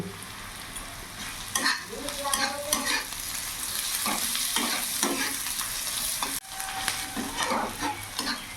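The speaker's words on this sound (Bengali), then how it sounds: "পেঁয়াজ লঙ্কাটা ভালো করে ভাজা হয়ে গেছে" Onion and chopped green chilli frying in a pan for an okra and potato dish, a steady close sizzle with intermittent scraping stir strokes of a spatula throughout.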